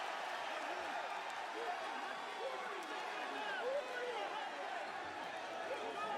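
A wrestling arena crowd at a WWE NXT event roars in a steady, dense wash of noise, with scattered shouts rising and falling throughout, sustained and fairly loud with no clear individual voices.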